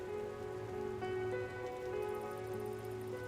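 Soft, steady rainfall in the lo-fi 90s-style PC psycho-thriller game RAIN98, a continuous patter laid under a sustained ambient music drone with no speech.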